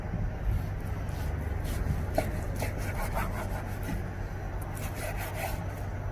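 A knife saws through pieces of raw beef, a steady close scraping and rubbing texture with a few soft taps over several seconds.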